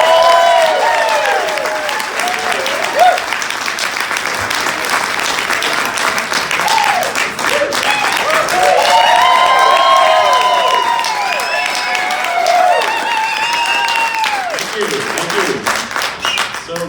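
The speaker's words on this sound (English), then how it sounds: "Please applaud from your heart, Mr. Rodney Peacock." An audience applauds and cheers a stand-up comedian being introduced at a comedy show, loud continuous clapping mixed with whoops and shouts from the crowd throughout.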